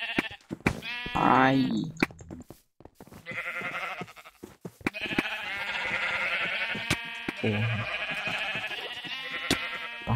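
Sheep bleat repeatedly in a video game, loud and near, with a voice exclaiming over them and game sounds continuing throughout.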